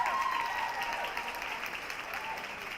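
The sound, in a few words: audience applause at award ceremony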